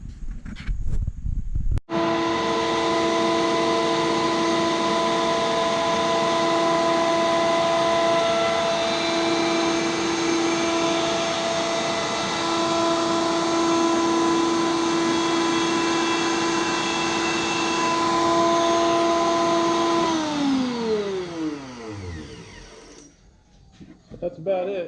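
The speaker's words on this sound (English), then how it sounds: "I have a 3/16 round over bit in the router, and I'm just going to run them through and get all the edges rounded" A router fitted with a 3/16-inch round-over bit whines steadily for about eighteen seconds as it rounds the edges of garden bench boards, loud and close, then spins down and stops.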